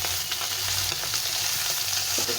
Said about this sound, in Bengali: মাছটাকে একসঙ্গে ভেজে দেবো।